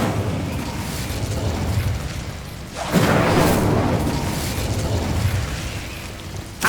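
Incendio fire spell cast in Hogwarts Legacy: a sudden whooshing burst of flame erupts and roars on loudly for several seconds, then tails off and flares again over steady game ambience.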